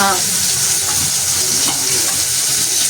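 Loud, close frying sizzle of fish crackles continuously in hot oil, a dense bright hiss with small pops and a faint scrape of stirring.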